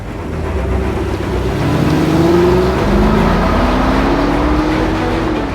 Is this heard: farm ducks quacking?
no